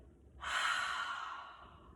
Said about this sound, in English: exhale out the stale air from the bottom of your belly